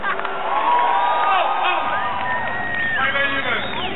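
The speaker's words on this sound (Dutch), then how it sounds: "Geef hem ook maar een bescheiden applaus." A concert crowd in Sittard cheers and whoops loudly and steadily, many voices shouting together close by with a dense babble throughout.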